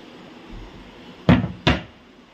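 Bifold doors on a corner kitchen storage cupboard being worked. Two crisp wooden clacks land close together, loud and near, against a quiet room.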